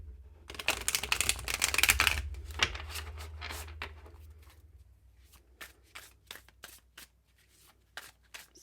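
Light Seers tarot cards being shuffled by hand, a dense riffling flurry for the first few seconds followed by a run of separate crisp card snaps and taps, close and clear with no talking.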